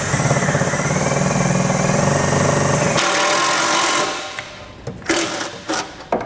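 A powered driver runs a self-tapping screw into a 2021 Buick during a towed-vehicle wiring kit install, whirring loudly and steadily for several seconds, then stopping, followed by a few close clicks and knocks.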